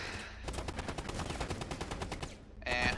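Rapid video-game gunfire, a fast steady burst of automatic shots running nearly three seconds and ending in a brighter, sharper report at the close, loud and close with no talk over it.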